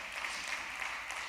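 A church congregation claps together in steady, even applause, sustained and moderately loud throughout the brief moment with no voices over it.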